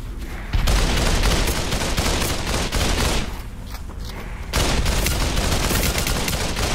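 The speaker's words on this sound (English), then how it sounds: "Oh, we're being shot at from behind." Gunfire rattles in the VR shooter Population One as the player is fired on from behind: loud, dense bursts of rapid shots with a brief lull partway through, then sustained firing again.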